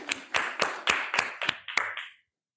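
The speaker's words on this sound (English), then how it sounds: "please clap" Several hands clap in about seven loose, evenly spaced bursts from a conference audience, then stop abruptly into silence.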